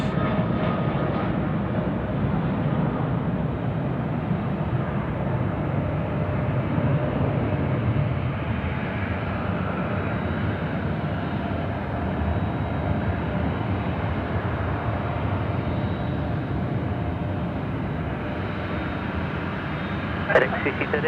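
A FedEx cargo plane takes off at night from Sydney Airport, its broad jet roar steady and fairly close for the whole stretch, with a person talking over it.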